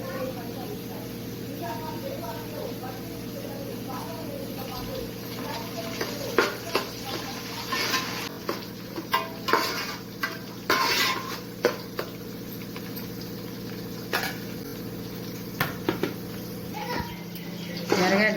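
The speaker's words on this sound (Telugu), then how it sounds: "ఎర్రగడ్డలు బాగా వేగినాయండి" Onions and green chilies frying in a pan for Nellore fish curry, a steady close sizzle under scattered scrapes and clinks of stirring, with a voice and other voices faintly in the background.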